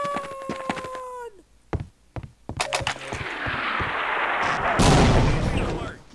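A big gun fires in the video game Half-Life Opposing Force, with a loud blast followed by a sustained roaring, crackling burst, after tonal game sounds and scattered thumps at the start.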